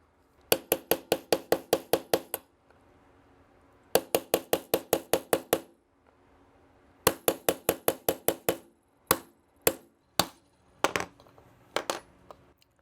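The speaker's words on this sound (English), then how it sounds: "So we're going to tap out this pin, 3/32 inch punch." Sharp metallic taps of a 3/32 inch punch driving a pin out of a Ruger LC9 pistol, struck in three quick bursts of about eight even blows each, then a few slower single taps, close and loud with no talk.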